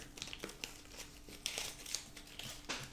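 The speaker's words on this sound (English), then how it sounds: "So I'm peeling off that tape." Purple tape peeled off embossed cardstock in a run of close crinkling and tearing crackles, several sharp rips standing out over about three seconds with no talking.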